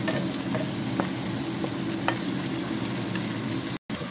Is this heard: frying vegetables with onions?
yes